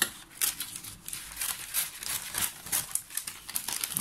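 Glossy paper rustles and crinkles in short bursts with crisp snips, as if sheets are being cut up close by, without any speech.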